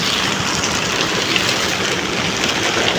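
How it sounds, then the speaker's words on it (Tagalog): Steady, dense rain pouring down, a continuous broadband hiss with no pauses, close and loud throughout. "Ang lakas ng ulan."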